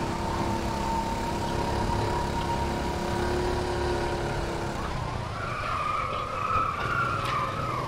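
A go-kart engine drones steadily in the KartKraft racing sim, then tires squeal in a sharp skid over the final few seconds, loud and close with no voices.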